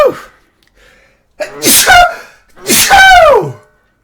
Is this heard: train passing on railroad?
no